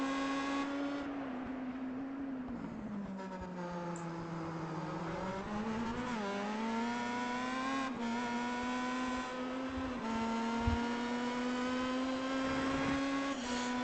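Race car engine heard onboard at Phillip Island circuit, a loud, steady high-pitched drone that rises and falls in pitch through gear changes and corners, continuous throughout with no talking.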